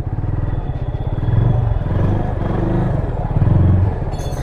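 A Yamaha FZS 25 motorcycle is wheeled or ridden slowly indoors at a showroom, its engine running steadily with a low rumble and a couple of louder swells, clatter mixed in, close and loud.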